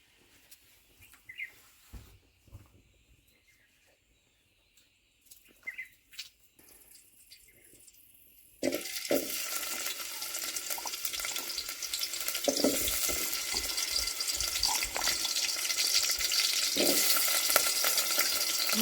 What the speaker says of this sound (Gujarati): પાણી કાઢવું પડશે.